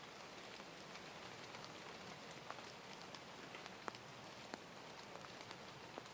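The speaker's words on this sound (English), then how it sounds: "The rain was still ticking against the windows" Steady rain ticks against windows, heard from indoors as a dense, even patter with scattered sharper drops, soft and slightly distant throughout.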